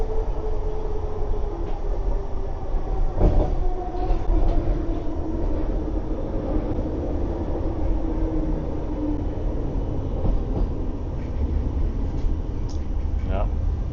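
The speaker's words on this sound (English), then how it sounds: "The SkyTrain track starts getting off of the ground again." Vancouver SkyTrain metro train running on an elevated track, a continuous loud rumble and rattle with wheel and motor hum throughout, occasional clunks.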